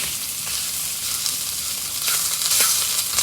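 Sausage frying in a pan with a little olive oil over medium-high heat, a steady close hiss with faint crackles and no talking.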